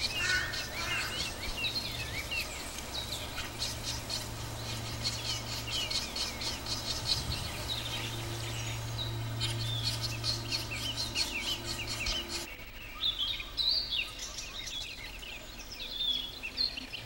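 Grey-headed woodpecker raising chicks in a forest, with thin repeated chirps and calls set over a steady low drone that continues throughout.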